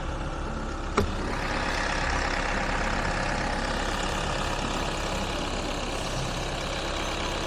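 A heavy diesel excavator engine idles steadily with a low, even rumble, with a single sharp click near the start and no voices.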